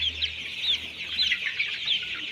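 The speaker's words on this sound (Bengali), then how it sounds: "আর 26 দিন বয়সে মুরগিগুলো কতটুকু বড় হয়েছে দেখেন আপনারা সবাই।" Twenty-six-day-old Sonali super hybrid chickens in a poultry shed give repeated high, short clucks and peeps, close by over a low steady hum, with no talk.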